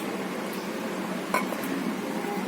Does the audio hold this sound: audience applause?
no